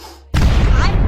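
A cartoon firecracker blows up in Tom and Jerry, planted in place of a cigarette at a mole's burrow: a sudden loud boom after a near-silent moment, followed by a sustained rumbling blast with a faint whistling tone.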